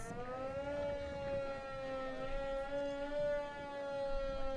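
A 1940s Lake Orion Police Department car sounds its siren in a homecoming parade, a steady sustained mechanical wail holding one pitch throughout at moderate distance, with faint crowd and street noise beneath.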